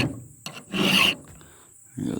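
Hand file sharpening chainsaw teeth, a few close, gritty rasping strokes, one long and loud stroke in the middle, separated by short pauses.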